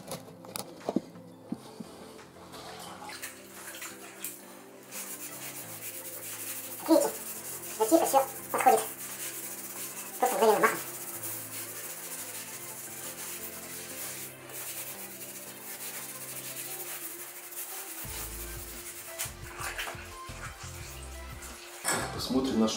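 Dense damp cloth wiping over tiles to lift leftover tile adhesive, a steady soft rubbing and scuffing that runs throughout, with a few sharper clatters and scrapes along the way, fairly close and moderately loud.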